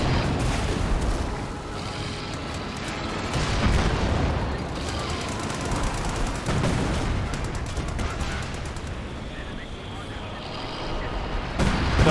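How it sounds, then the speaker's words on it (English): A heavy mortar barrage in the Company of Heroes 2 video game: repeated booming impacts and rumbling blasts roll on continuously, rising and falling, with a voice talking over the battle. "That looks like a heavy mortar barrage."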